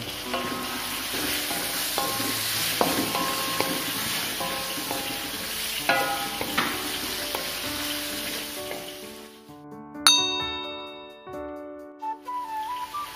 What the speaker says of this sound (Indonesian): lalu kita masukkan udangnya kita tumis udangnya dulu ya sampai matang